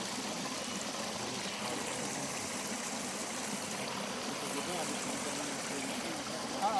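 Clear spring water flowing steadily in a stream, a soft continuous trickling wash heard nearby, quiet and unbroken throughout.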